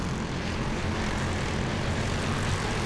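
Briggs World Formula racing karts working through a chicane at a race, their engines forming a loud, steady, buzzing roar with no break.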